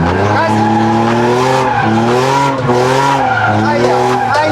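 A car being driven in drift practice revs hard as its tires squeal and skid, and the engine note rises and falls in close, loud surges while someone talks over it.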